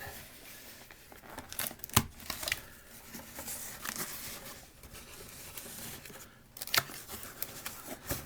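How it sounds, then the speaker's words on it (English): Knife slicing through heavy packing tape on a cardboard box, a quiet scraping and tearing texture with a few sharp crinkling peaks and tape-pull rips, close and alone without talk. "Let's open this up here. I want to be careful not to cut too deep into that."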